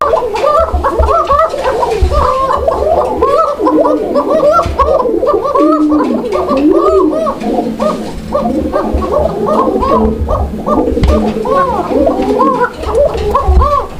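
Domestic Raj-Golla fancy pigeons, a male and a nesting female, coo loudly and close in overlapping throaty burbles and rolling calls that continue without pause over soft background noise.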